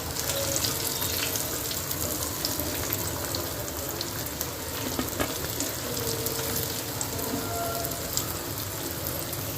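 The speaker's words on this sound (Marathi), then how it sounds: "आता आपले दोन्ही साईडून चांगले फ्राय झाली आपली कर्ली मच्छी, आता आपण ती काढून घेऊया।" Karli fish frying in a pan, giving a dense, steady sizzle and crackle that runs evenly throughout at moderate loudness with no voices.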